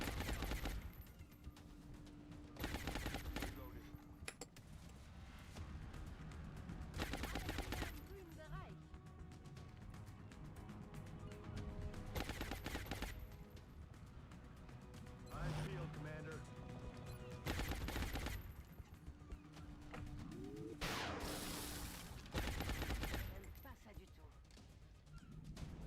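Suppressing gunfire rattles during an XCOM Long War battle. Bursts of automatic fire recur over a busy game soundtrack and effects, with a voice talking throughout.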